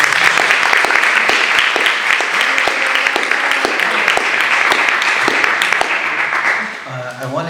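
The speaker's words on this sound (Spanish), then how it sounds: "un aplauso para todos porque hemos aprendido y hemos compartido" Dense, steady applause from a seated audience at the close of a panel discussion, sustained loudly for several seconds before tapering off, with a voice starting to speak at the very end.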